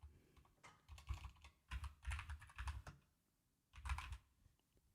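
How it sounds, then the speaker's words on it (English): Rapid clattering keystrokes on a computer keyboard in bursts with short pauses, close and fairly quiet, with no talking. "Come on, keyboard."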